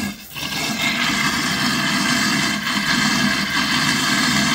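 Water rushes hard and steadily from a household water heater being flushed while a pressure tank refills, a loud continuous hissing roar close by after a brief dip at the start.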